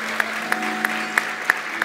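Studio audience applause on a Brazilian TV interview set, a steady wash of many hands clapping with a few sharper individual claps standing out at regular intervals over a low hum.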